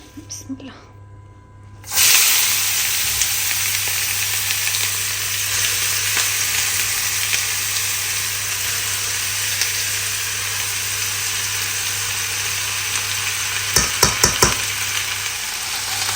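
Potatoes frying in hot oil hiss loudly and continuously after a quiet start, a close, dense sizzle with a few sharp scraping stirs near the end.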